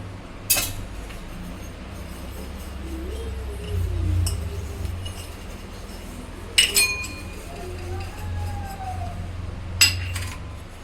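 Small steel bowls clink against each other as they are greased with oil before being filled with dhokla batter; a few sharp, bright metallic chinks stand out over a low steady background hum.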